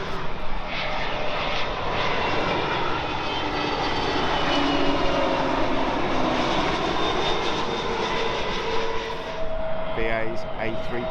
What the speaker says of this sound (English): BA's A320 Neo, short hop from Newcastle.